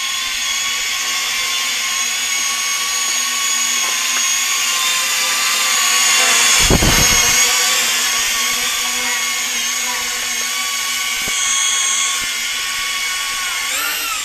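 Continuous high-pitched buzzing whine of a small Metakoo Q323 quadcopter drone's rotors hovering nearby as it descends, with a brief low thump midway and slight shifts in pitch.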